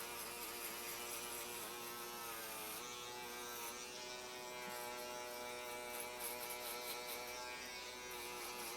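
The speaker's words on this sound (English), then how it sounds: "just come in with a foil shaver. You want to clean it all up." An electric foil shaver buzzes steadily and faintly, its tone shifting slightly as it moves through hair, with no voices.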